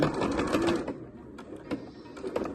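A sewing machine stitches closed a small fabric opening on a beginner's circular fabric organizer, running in a steady rapid chatter for nearly a second, then slowing to a few separate stitches and clicks.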